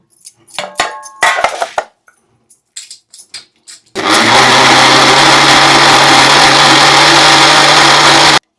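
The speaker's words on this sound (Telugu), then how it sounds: "ఇందులోని ఇప్పుడు టమాటా వేసి ఇది కూడా మిక్సీ పట్టాలి" A few light clinks and taps of utensils, then a mixer grinder whirs loudly and steadily, blending tomatoes without pause until the end.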